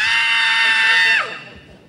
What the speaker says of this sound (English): Mom's going to scream very, very loudly.